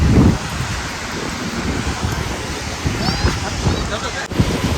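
Sea waves wash steadily onto Vesave beach, a broad continuous surf roar with wind on the microphone, while a voice talks over it.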